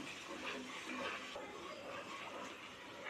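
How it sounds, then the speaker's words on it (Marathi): Water is poured into a pan to dissolve sugar for a thick syrup, a soft, steady splashing rush lasting a few seconds and heard alone. "तर ते पाणी पण मी पॅनमध्ये घालती आहे"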